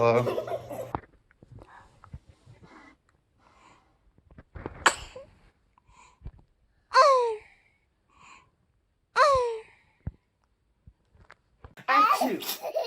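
A baby sneezes several times in a quiet room, with three sharp, high little sneezes spaced a couple of seconds apart and a cluster of small vocal sounds and giggles near the end.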